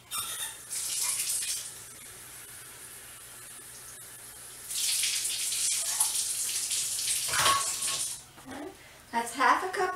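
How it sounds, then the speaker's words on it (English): Half a cup of water pours from a measuring cup into a cooking pan on a stovetop, a couple of bright splashing bursts close by, with a person talking around them. "I'm going to get 1/2 cup of water and put it in my pan."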